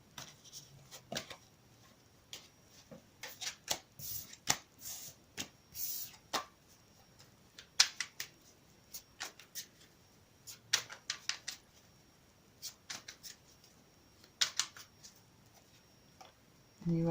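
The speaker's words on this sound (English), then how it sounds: "Let's pick all of these cards up." Tarot cards are gathered up and shuffled close by, giving sharp irregular clicks and flicks separated by quiet gaps.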